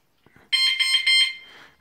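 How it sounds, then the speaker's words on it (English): A wireless bicycle alarm tail light gives a loud, shrill electronic beeping in quick pulses after a couple of faint clicks, then fades out. "Now for the alarm, just push the"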